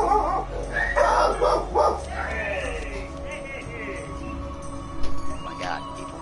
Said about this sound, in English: There go my dogs, by the way.